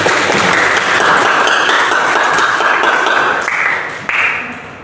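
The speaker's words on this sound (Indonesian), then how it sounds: "Tepuk tangan untuk kalian." A classroom of students claps loudly for their classmates after their presentations, a dense, sustained round of applause that thins toward the end, with a few voices calling out over it.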